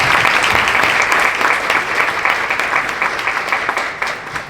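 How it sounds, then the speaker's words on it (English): An audience gives a big round of applause for panelists after a marketing panel discussion, a loud, dense, sustained wash of many hands clapping that tapers slightly toward the end. "a big round of applause for the panelists."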